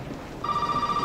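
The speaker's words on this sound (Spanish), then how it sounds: "ahora el puto teléfono, tío" Telephone ringing in Resident Evil 7: a steady electronic ring begins partway through, short and fairly faint, with no talking.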